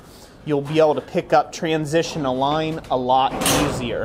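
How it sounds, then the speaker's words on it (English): A door banging in gusty wind on a blustery day in Ohio, with short knocks and thumps mixed in beneath someone speaking steadily throughout, ending in a louder broadband burst near the end. "excuse the door banging in the background"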